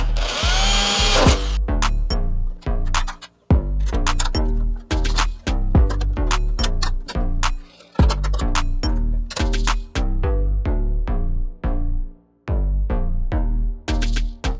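A power drill tightens nuts and bolts to mount an exhaust fan inside a tin can for a homemade air cooler, heard as loud repeated whirring bursts in quick succession with short pauses between, close up and alone.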